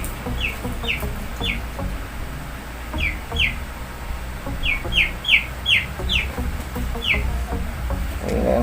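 Chick peeping in short, high chirps, near and fairly loud, in scattered runs of two or three over a low background rumble.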